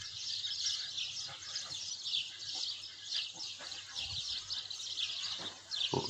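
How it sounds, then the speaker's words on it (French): A bird calls outdoors in a dense, repeated high chirping chorus that runs steadily throughout, with faint low background noise and occasional soft knocks. "je ne sais pas ce que c'est comme oiseau"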